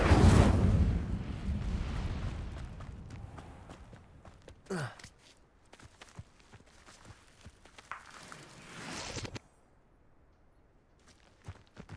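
A spell-cast burst of Incendio fire in Hogwarts Legacy, a loud whooshing flare at the start that fades, followed by a sharp swish and scattered footsteps, then a second rising magical surge that cuts off abruptly.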